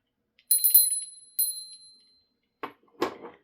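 A small bell used for a pick-a-card reading rings several times in quick bright strikes with ringing decay, after which two short soft rustles or knocks follow in otherwise quiet surroundings.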